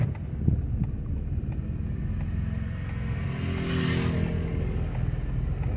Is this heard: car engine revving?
yes